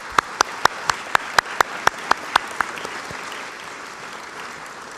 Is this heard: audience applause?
yes